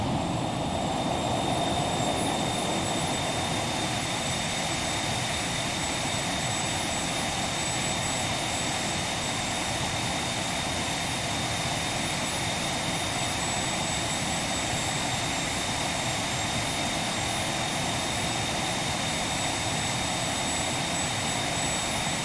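Aerobask Phenom 300 business jet in the X-Plane 11 flight simulator, its engines giving a steady, loud cabin drone with a faint high whine, unchanging and without talk.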